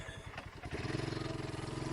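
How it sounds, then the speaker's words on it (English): BSA Scrambler 650 motorcycle engine idling below 2000 RPM after cooling, a steady low rhythmic thrum that settles in after a brief rougher start, close and moderately loud with no talk. "As you can see, the engine has cooled, so now it's around below 2000 RPM. But I love the sound though."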